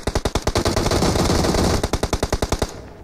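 Automatic gunfire in PUBG Mobile, loud close bursts of rapid rhythmic shots, a sustained roar of fire in the middle and a final string of evenly spaced rounds, with no talk.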